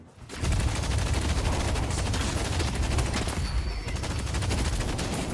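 A sustained volley of gunfire in the hero shooter Deadlock starts abruptly after a brief quiet, with dense, rapid shots continuing at a steady level throughout.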